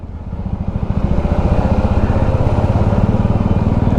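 A motorcycle engine with a newly fitted aftermarket exhaust idles and builds into a loud, close, rapid thumping putter that holds steady.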